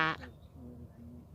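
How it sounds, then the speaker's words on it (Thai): A single loud wild duck quack sounds close by, followed by fainter quacking in the background from a flock of thousands on a lake. "แต่วันนี้เราเจอ ฝูงเป็ดป่าซึ่งเป็นพันๆตัวนะคะ"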